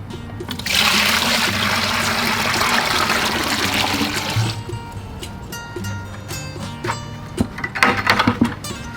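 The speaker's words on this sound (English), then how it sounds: "Pour the pigmented mix water through a 5-gallon paint strainer to avoid pigment bursting." Pigmented mix water poured through a 5-gallon paint strainer for a tadelakt shower finish coat, a steady loud splashing pour that runs for about four seconds, then trickles and scattered drips with light handling noise.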